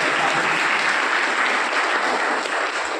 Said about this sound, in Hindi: बिना कहे आप लोगों ने बड़ी इतनी तेज ताली बजाई